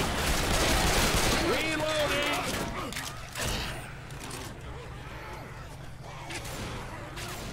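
Gunfire in the video game Left 4 Dead, bursts of shots and mechanical clatter, busier in the first half and then thinning out, with people talking over it.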